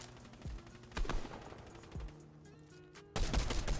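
Bursts of gunfire in a Fortnite arena match, several separate shots and short volleys, with a loud sustained burst of rapid fire near the end, no talk.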